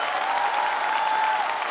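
Studio audience applauding on a Serbian TV entertainment show, a steady dense wash of clapping that holds evenly throughout, with a faint sustained musical tone running underneath.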